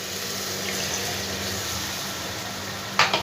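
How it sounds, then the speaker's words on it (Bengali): Water used to rinse ginger and cumin spice paste pours steadily into a thin Bengali fish curry, a continuous rushing splash that ends in a brief louder splatter, with no talking. "এবার আমি মশলার মধ্যে মশলা ধোয়া জলটা আমি এবার এর মধ্যে দিয়ে দেবো সম্পূর্ণটা"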